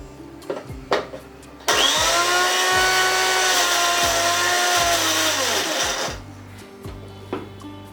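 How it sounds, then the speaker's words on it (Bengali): A blender roars to life and runs at a loud, steady high whine for several seconds, pureeing spinach into a paste, then cuts off, with softer knocks before and after. "পালং শাকগুলো কাটা হয়ে গেছে এবার ব্লেন্ডারে পেস্ট করে নিই"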